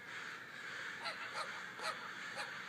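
A flock of crows caws outdoors, several harsh calls coming in short bursts at a moderate distance, faint over a steady background hiss.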